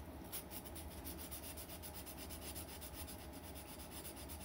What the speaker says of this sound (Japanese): ここはちょっと力入れて、ちょっとジャリジャリやるような感じ